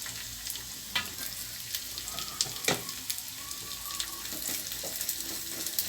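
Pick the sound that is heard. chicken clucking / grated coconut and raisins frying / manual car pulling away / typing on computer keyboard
grated coconut and raisins frying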